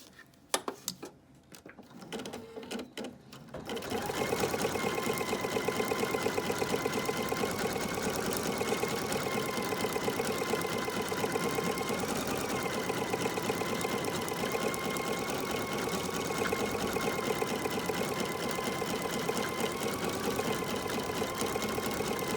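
A sewing machine stitching an appliqué, starting after a few seconds of quiet handling clicks, then running in a steady, fast, close mechanical rattle that holds without a break.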